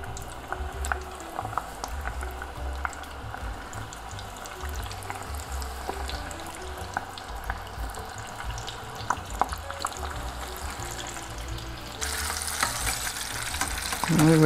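Chicken wings deep-frying in hot oil, a steady bubbling sizzle at moderate level with scattered pops and crackles, swelling slightly louder near the end.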